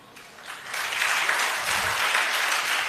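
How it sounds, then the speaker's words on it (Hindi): Audience applause at a religious talk in a temple, a crowd clapping that swells after a soft start and holds steady and full for several seconds, close and lively with no voices over it. "ये ताली मेरे कहने पर नहीं बजी है, ये आप लोगों ने इसको अनुभव किया है।"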